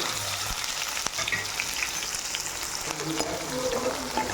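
Green chilies and onion fry in oil in a kadai, giving a steady close sizzle with a few sharp clinks and stirring scrapes, no voices over it.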